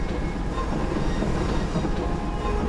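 A train rides the rails with a continuous rumbling roar and faint rhythmic rattling of the wheels, heard steadily and up close with no voices.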